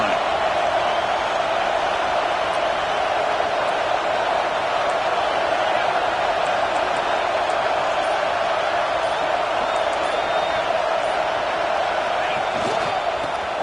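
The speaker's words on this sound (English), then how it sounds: "the crowd really making some noise now, trying to help out this defense to get this stop near the goal line" A stadium crowd roars steadily at a football game as the home defense tries for a goal-line stop, a dense, constant wash of cheering noise with no pauses.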